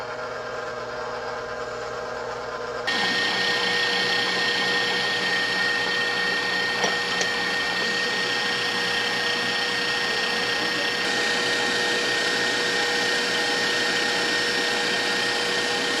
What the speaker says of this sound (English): I'm going to use a mixer for that.